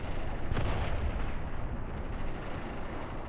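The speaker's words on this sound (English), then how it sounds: "This artillery does seem to be doing an okay job at suppressing them." Artillery fire in the Graviteam Tactics war game, a dense continuous roar of distant shelling with a heavier thump near the start, rumbling evenly throughout.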